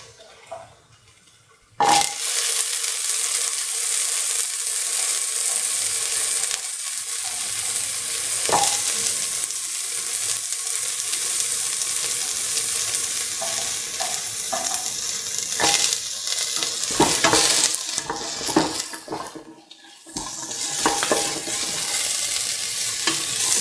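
Carrot pieces fry and sizzle steadily in a pan for dinner rice, with a spoon stirring and scraping through them; the broad hiss starts abruptly after a quiet moment and stays loud, with brief dips and clinks.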